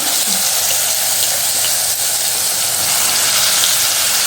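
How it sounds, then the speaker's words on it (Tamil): Ground curry leaf paste hitting hot sesame oil in a pan, a loud, dense, hissing sizzle that runs steadily and close throughout with no speech. "இப்போ இதோட கூடவே நம்ம மிக்சி ஜாரில் அரைச்சி வச்சுருந்த அந்த கருவேப்பிலை பேஸ்ட்டை சேர்த்துடலாம்"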